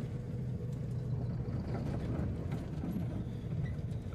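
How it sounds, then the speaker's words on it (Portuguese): A truck engine runs with its engine brake not working, heard from inside the cab on long descents near Neuquén, Argentina, as a quiet, steady low rumble that holds throughout. "tá sem freio o motor, não sei o que que houve aqui, não tá."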